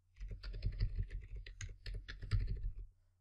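Rapid keyboard key presses at a computer while working in image-editing software, a steady stream of clicky taps in an irregular typing rhythm, close and clear with no talking.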